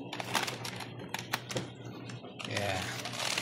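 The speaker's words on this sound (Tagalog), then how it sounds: "ito po yung keyboard na itetest ko kung good" Fairly quiet clicks of a computer keyboard under test, with irregular bursts of key presses and brief pauses between them.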